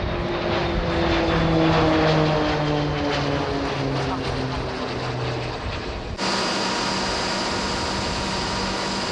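A KT-1 propeller trainer and a T-50 jet fly past with a loud, steady engine drone whose pitch slowly falls, then cuts abruptly to a different, quieter aircraft hum.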